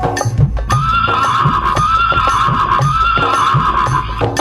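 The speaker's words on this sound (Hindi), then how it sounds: "एक हिनहिनाता घोड़ा दरबार को खड़े," A horse neighs loudly and up close, a long whinny heard alone with a few hoof clops underneath and no talking.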